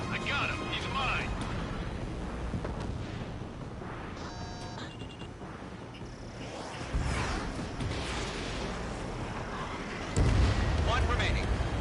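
Enemy bomber blowing up in the flight combat game Ace Combat 7: Skies Unknown, a dense rumbling blast and burst layered over continuous jet roar, gunfire and radio chatter, with a heavier boom near the end.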